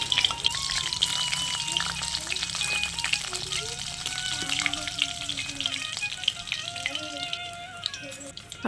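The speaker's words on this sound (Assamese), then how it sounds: "এতিয়া আৰু মাছ ফ্ৰাই কৰা আমাৰ হৈ গ'ল।" Pieces of fish fry in oil in a pan, giving a constant close crackling sizzle throughout, with faint voice-like tones drifting underneath.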